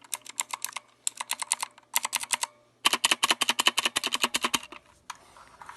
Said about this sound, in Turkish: Tuş sesini dinletmek istiyorum.